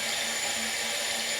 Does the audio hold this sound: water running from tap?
yes